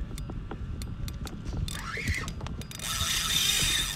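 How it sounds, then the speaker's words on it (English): Fishing reel drag clicking in rapid ratcheting bursts while a false albacore is fought offshore, with wind and water noise; a brief whoop of voice, and the clicking grows denser and louder toward the end. "I got this drag tightened down pretty good too"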